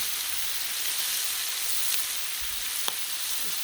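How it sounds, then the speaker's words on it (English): Cheap, very fatty bacon frying on a Blackstone griddle, a steady dense hiss and crackle throughout with a few sharper pops, close and continuous with no talking. "So very fatty, but this is cheap bacon."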